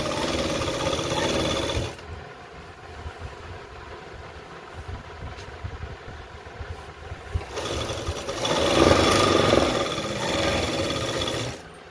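Sewing machine stitching palazzo pants, its motor whirring loudly in two runs at the start and end with a quieter, softer pause between, close by and with no talk.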